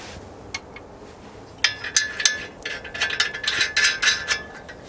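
Metal lug nuts are spun by hand onto the wheel studs of a Lexus IS250 while a brake disc sits loose on the hub, giving a run of light clinks and ratcheting clicks that grow busier in the second half.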